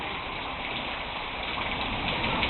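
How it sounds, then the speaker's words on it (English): Steady rain falling in Houston, a soft, even hiss of drops on surfaces close by that carries on alone without a break and builds slightly toward the end. "It's raining."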